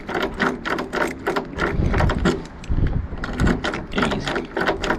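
A key is worked back and forth in a freshly lubricated lock, giving close, repeated metallic clicks and scraping ratchety rattles in quick bursts with short pauses between.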